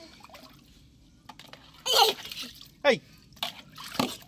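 Water splashes and pours over heads in several short bursts, close and fairly loud, mixed with people talking and playful voices.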